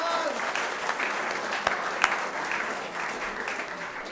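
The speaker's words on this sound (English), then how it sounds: "Big round of applause." A congregation gives a big round of applause at the close of a service announcement, steady clapping from a crowd indoors that holds evenly for several seconds.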